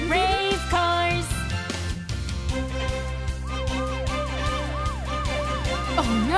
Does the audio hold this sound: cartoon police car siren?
yes